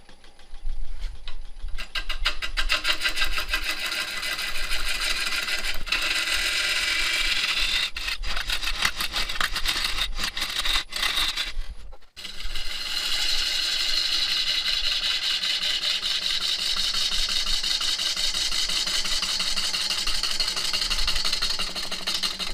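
A Robust Tools bowl gouge cuts pecan wood on a spinning lathe, giving a steady, loud, close hiss with a rushing scrape and a motor hum underneath. It breaks off briefly partway through, then resumes without anyone talking.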